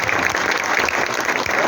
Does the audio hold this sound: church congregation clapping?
yes